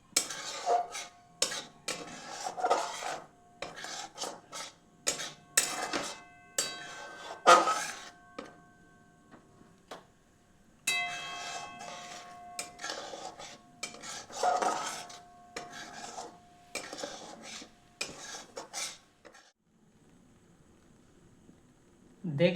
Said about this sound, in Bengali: আর এখানে দিচ্ছি ছোট করে কেটে রাখা কাজু আর কাঠবাদাম দিয়ে এগুলি ভালো করে আরো মিশিয়ে নিচ্ছি